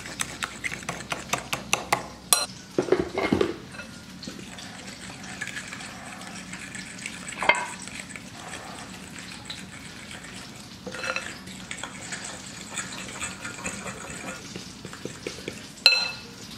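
A spoon stirs powdered sugar glaze in a bowl for apple pie fritters, making a continuous soft scraping swish with a few louder clinks against the bowl.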